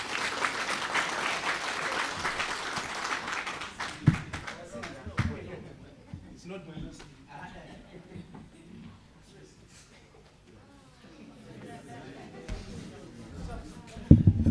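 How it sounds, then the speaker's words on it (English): Audience applause rises at a World Teachers Day ceremony, a few seconds of clapping that fades out and leaves near quiet, with a couple of sharp knocks toward the end. "Let's give him a big round of applause."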